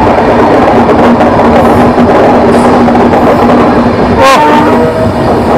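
Vistadome coach on the NJP to Alipurduar Dooars tourist special train rolling through dense jungle, a loud continuous rumble of wheels and carriage noise with a brief horn-like tone near the end.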